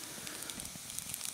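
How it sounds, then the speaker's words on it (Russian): Small campfire crackling on an overnight hike, soft irregular pops and snaps over a faint steady hiss, quiet and close with no voices. "Такой костер маленький, но он горячий."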